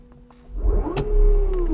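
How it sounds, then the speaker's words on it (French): A 1965 Porsche 912 converted to an electric retrofit drivetrain starts up, a rising whine sweeping upward over a low rumble, close and steady with a sharp click near the start. "la voiture est en route"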